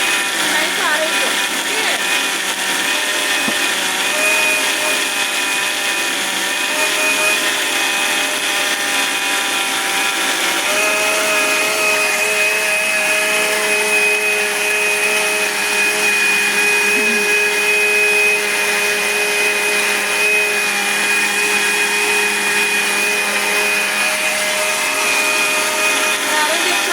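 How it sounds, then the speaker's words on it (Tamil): A kitchen mixer grinder blends coconut chutney in a steady, loud, high whirring drone that runs throughout without pause, its pitch shifting slightly as the paste smooths out. "அரைஞ்சிருச்சா? சரி ஆஃப் பண்ணு. சிக்கு ஆஃப் பண்ணு."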